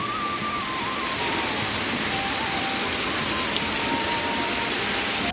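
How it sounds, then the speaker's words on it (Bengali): Heavy rain pours steadily in a dense, unbroken hiss, loud and close, with no pauses or voices. "কি সেই এক টানা বৃষ্টি হচ্ছে কি ব্যাপক বৃষ্টি হচ্ছে দেখো"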